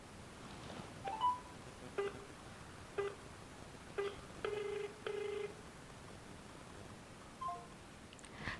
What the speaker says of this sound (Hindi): तो ये कॉल ऑटोमेटिकली कट हो गया